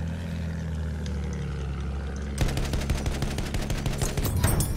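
Rapid automatic gunfire in the video game Battlefield 1 starts after a steady engine drone and continues in a fast, even burst of sharp shots for the final couple of seconds.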